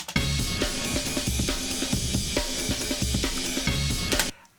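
Heavily compressed electronic music runs through a custom OTT-style multiband compressor built with Kilohearts Multipass and its dynamics snap-in, giving a dense, bright, loud, pumping loop with rhythmic bass hits before cutting off abruptly.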